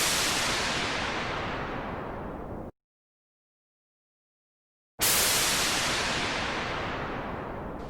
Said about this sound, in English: So in this break, I put auto pan on the noise